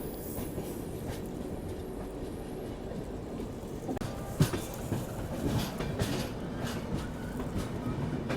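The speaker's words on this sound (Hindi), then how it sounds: "हमारी ट्रेन देखो विजयवाड़ा पहुंच रही है" A passenger train pulls into Vijayawada Junction, heard from on board as a steady low rumble of rolling wagons with faint rhythmic wheel clatter and an occasional sharp clank, moderately loud and continuous.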